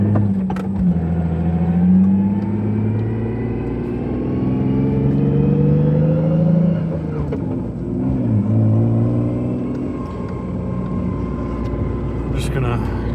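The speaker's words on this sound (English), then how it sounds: "it makes some sound because it's a drift car" A 2004 Lexus IS300 drift car's engine rumbles steadily and loudly nearby, pitch rising and falling with revs, while a person talks over it throughout.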